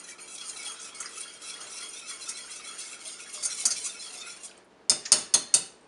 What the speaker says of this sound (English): go ahead and give it a little stir